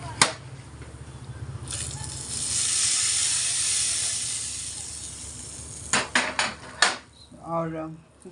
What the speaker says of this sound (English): Now the ghee is hot. I'm adding some cumin seeds, pinch of hing powder, few curry leaves for tempering.